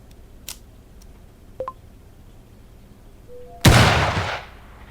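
A sniper rifle shot fires in the game Empire of Sin, one loud, sharp blast that decays over about a second, preceded by a few faint clicks and a brief tone.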